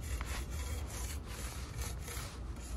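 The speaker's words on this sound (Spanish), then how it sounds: "En las letras es necesario hacerle con la brocha para que la pintura entre en las grietas de la letra" A paintbrush scrubbing paint into the grooves of carved wooden letters, a soft, continuous rubbing and scratching of bristles on wood, close and fairly quiet, with no voices.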